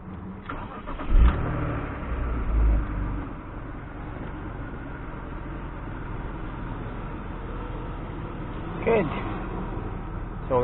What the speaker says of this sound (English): So let the car run for like a minute.